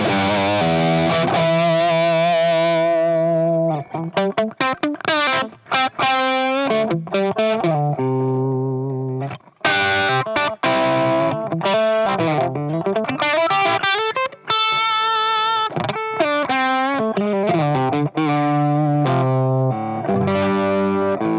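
Heavily distorted electric guitar through a Guitar Slinger Products 87 MKIII high gain distortion pedal plays a sustained, saturated riff with bends and chugging chords, loud and close with a brief pause midway.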